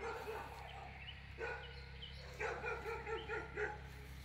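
A dog barks a few quick, fairly faint yips and woofs in short bursts over a steady low hum, at a distance.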